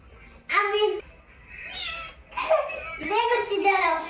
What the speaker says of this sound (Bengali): বাবা এটা তো বিড়ালের বাচ্চা